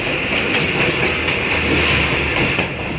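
A Shah Hussain Express passenger train, an old train fitted with new AC units, runs at speed with a steady, loud rumble and a faint rhythmic clickety-clack from the wheels throughout, with no voices.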